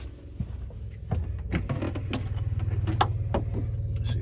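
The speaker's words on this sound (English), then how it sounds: "Let's see if I can get the pump working." The water pump in an Auto-Sleeper Clubman campervan runs with a rapid, steady mechanical buzz, joined by knocks and handling clatter nearby.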